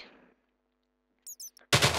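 Quick mechanical clicks followed by a loud, sudden explosion from a TNT cannon in Minecraft, the blast cutting off abruptly.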